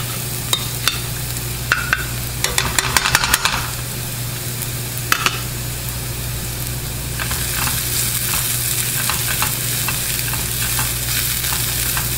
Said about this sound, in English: Once you start to smell that garlic cooking